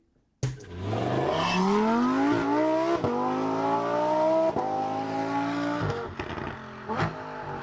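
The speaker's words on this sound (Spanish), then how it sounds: "Tiene buen sonido el coche, se ve que ahí sí que lo tiene muy bien trabajado." A 2023 Lamborghini Huracán Técnica bursts to life and its engine climbs in a long, loud rising rev through several gear shifts, with a sharp crackle near the end.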